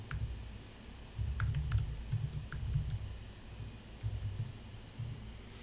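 Keys clatter on a computer keyboard in quick bursts of typing with brief pauses, close and clear with no voices.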